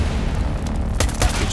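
Gunfire from a Counter-Strike match at a professional esports tournament, a short burst of muffled booming shots over a dense rumble of game sound.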